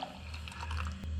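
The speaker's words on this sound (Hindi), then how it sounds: "गरम पानी डालेंगे" Hot water is poured onto red jelly crystals and gelatin powder, giving a brief, soft, continuous splashing gush.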